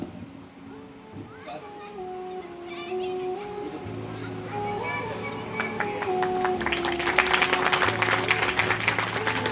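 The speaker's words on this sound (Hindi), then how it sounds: "तालियों में दम नहीं है, जोर लगा के।" An audience claps at a Gita Jayanti festival during a Bhagavat Katha gathering. Sustained music plays throughout, and crisp clapping swells in the second half until it is loud and dense near the end.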